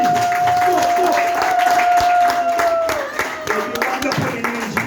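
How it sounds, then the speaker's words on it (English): An audience at a poetry night in Accra gives a round of applause, sustained clapping with a steady tone ringing over it and crowd voices, fading somewhat toward the end. "give a big round of applause for Hair Collective."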